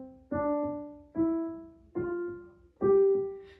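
Four detached piano notes are played one after another with short breaks between them, each decaying quickly before the next, close and moderately loud.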